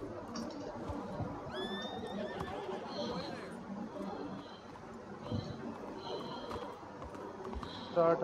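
A horse in the game Red Dead Redemption 2 whinnies once, fairly clear, over a constant bed of game noise and background chatter, with fainter high tones following.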